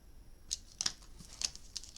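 Paper pieces are cut with a few sharp, crisp snips spaced irregularly, close by and quiet against a soft background, with no voices.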